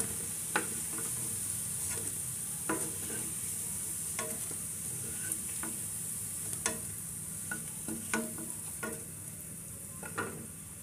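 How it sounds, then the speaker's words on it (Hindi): Jackfruit koftas frying in hot oil in a pan give a steady, close sizzle, with scattered clinks and scrapes as they are stirred and lifted out; no one speaks. "ये मेरे सारे कोफ्ते तल गए हैं और अब मैं इसको निकाल लेती हूँ प्लेट में"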